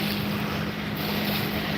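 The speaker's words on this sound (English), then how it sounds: "People out on the jet skis flying around." Jet skis race across a river on a busy day, a continuous droning engine hum mixed with rushing wind and water, steady and fairly loud.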